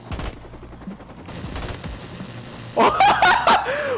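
Short bursts of video game gunfire from a shooter match crack out in quick volleys, followed by a player's laughing, muttering voice that overlaps the last shots.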